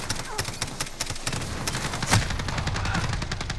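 Rapid hip-fire gunfire in the video game Call of Duty: Modern Warfare, a dense, loud, continuous stream of shots rattling for several seconds with a slightly bigger blast partway through.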